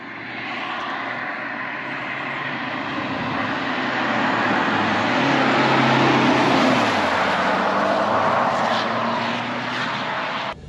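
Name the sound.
BMW 320d M-Sport Touring driving on badly surfaced road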